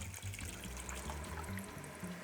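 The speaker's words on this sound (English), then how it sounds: "Boiling water in, washing our pan at the same time." Water runs steadily from a tap while a pan is washed, a continuous splashing rush with faint clinks underneath, no voices.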